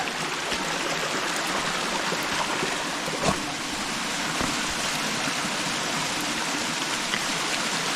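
Steady, dense rush of a canyon waterfall in the San Bernardino area fills the whole clip, a constant broadband roar with no voices.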